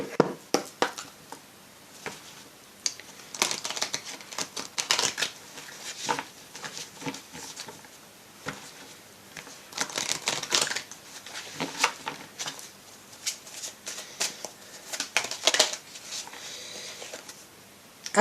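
Fairy oracle cards are shuffled again and again with crisp riffling and flicking bursts, close up and fairly loud, broken by short pauses over about eighteen seconds.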